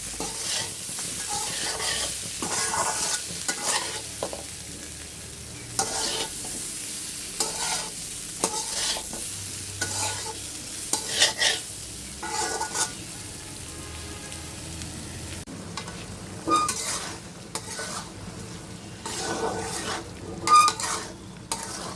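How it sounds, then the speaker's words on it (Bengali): Potatoes fry in oil with chili, salt, turmeric, bay leaf and ground spice paste, stirred briskly with repeated scraping clacks over a soft, continuous sizzle. "এটাকে আমি ভালোভাবে কষাই নেব।"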